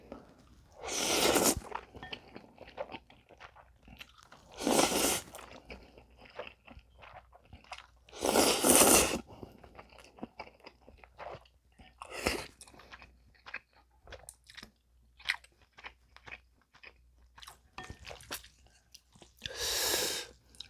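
Crunchy bites of strawberry-flavored bibim noodles from Paldo, heard as several loud, close crunching bursts spaced a few seconds apart, with quieter chewing and mouth noises between them and no talking.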